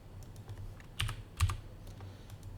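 A short run of keyboard taps, a few soft clicks with two sharper keystrokes, close and quiet in an otherwise still room.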